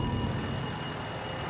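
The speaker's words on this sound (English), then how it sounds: "The phone had begun ringing at exactly 7 p.m." A telephone rings steadily and fairly faintly over a constant hiss, with no voices and nothing else clearly standing out.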